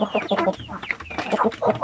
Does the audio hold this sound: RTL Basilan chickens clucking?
yes